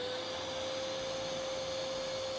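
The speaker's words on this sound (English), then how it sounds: "Look what happens when I get my vac hooked up and switched on." A Lumberjack shop vacuum hooked to a Lumberjack Pro Series 12-inch mitre saw runs with a steady, loud broadband rush and a constant tonal hum, with no pauses or talking.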